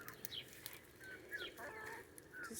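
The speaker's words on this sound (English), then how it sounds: "Scratching, pecking, foraging, being happy chickens." Backyard chickens in an urban Chicago homestead cluck softly in short, scattered calls while scratching and foraging, faint and close over a low outdoor background.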